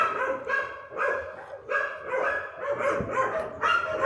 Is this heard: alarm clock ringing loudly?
no